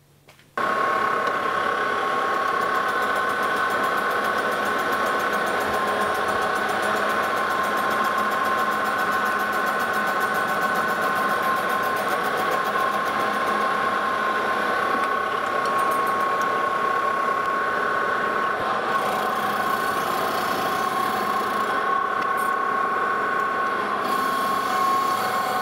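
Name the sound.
lathe skimming cast steel railroad wheel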